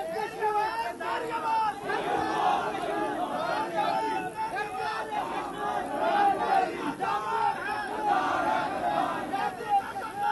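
A large crowd at a political rally in Kashmir House shouts and chants slogans in loud, continuous, overlapping waves, a dense roar of many voices with no break.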